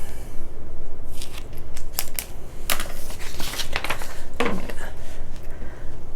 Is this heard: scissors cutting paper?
yes